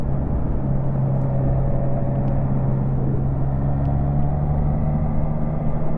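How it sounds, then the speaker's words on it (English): A Triumph Trident 660 motorcycle rides in fifth gear on the road with a steady, continuous engine drone and wind rumble, loud and close, with no talking. "Fifth gear, just roll on the throttle."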